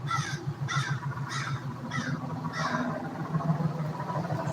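Crows caw five times in a loose, evenly spaced series, clear and moderately near over steady outdoor background noise.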